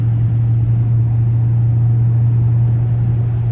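Steady, loud low engine drone from inside a Dodge Scat Pack spinning on snow, continuous and unbroken throughout.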